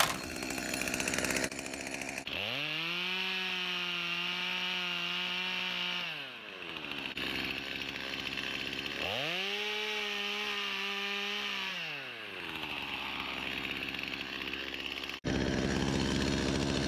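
A loud drill with a number 8 bit whines steadily through two long bursts while boring into a maple tree for tapping, easing down between them, with a constant mechanical hum throughout.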